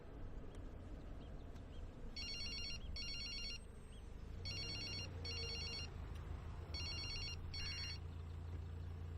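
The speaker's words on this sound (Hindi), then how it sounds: "ये आपको बार बार किसका फोन आ रहा" A phone rings in three pairs of bright electronic trills, evenly spaced, over a faint low background hum.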